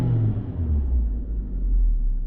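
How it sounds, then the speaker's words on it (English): A 2014 Nissan Rogue engine idles smoothly after a VVT oil solenoid replacement, a low steady rumble heard up close for a couple of seconds. "It actually idles nice and smooth too."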